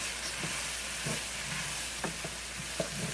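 Rice is stirred in a pan for Cajun chicken and rice, with soft, faint scraping strokes at irregular intervals over a constant steamy hiss.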